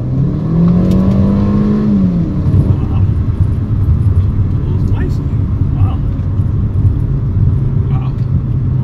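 A 2016 Mercedes CLA 250 accelerating on throttle, steady loud engine drone with a rising tone early on, then sustained rumble and road noise from inside the car.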